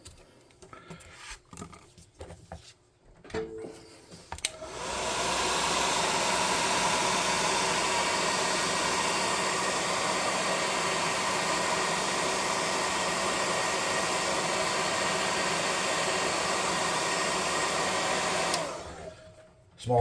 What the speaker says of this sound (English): Hot air gun.